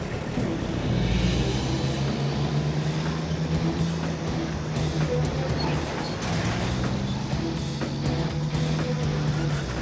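A heavy outback truck engine labours while stuck in a desert bog hole, a loud continuous low rumble with a steady droning tone that rises and falls slightly as it strains, with no talk.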